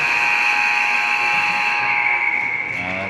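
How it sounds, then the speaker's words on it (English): A sustained arena buzzer sounds at a youth hockey game to end a period, a loud steady harmonic drone that holds for about three seconds before tailing off slightly, with no talk over it. "That's the buzzer. End of first half."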